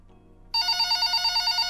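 A telephone rings in the Japanese otome game Break My Case, starting abruptly after near silence with a clean, loud electronic trill pulsing in rapid, even bursts.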